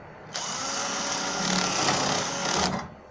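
Electric drill with a 3.5mm bit boring out an old screw hole during a Jaguar XK140 restoration, a loud, steady high-pitched whine that starts abruptly, runs for just over two seconds, then cuts off.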